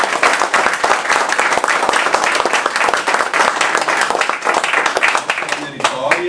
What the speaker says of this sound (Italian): è stato un bel applauso